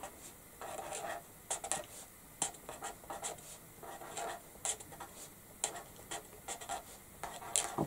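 Pen or pencil marking a paper sewing pattern for a small shoulder bag, with quiet scratchy strokes in quick irregular bursts against a soft background hiss.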